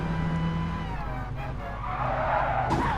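Mini racing car in a one-make series at Monza slides sideways across gravel, engine droning under a rising screech and rough scrabble of tyres, loud and close throughout.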